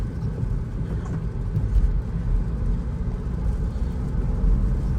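Steady low engine and road rumble inside an automatic Peugeot 3008 or Nissan Qashqai accelerating, with gentle swells as it shifts up through third and fourth gears, continuous and moderately loud.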